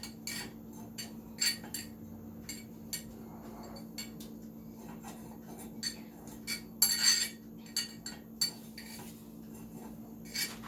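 Light scraping and metallic clinks come from garlic being rubbed around the inside of a fondue pot, with soft, irregular taps and one louder rattling stretch.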